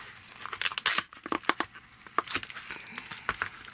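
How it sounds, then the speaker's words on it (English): A Velcro strap on a flower pressing kit is ripped open and tightened in several short, sharp tearing bursts, close and crisp, with brief pauses between pulls. "your Velcro straps and tighten it"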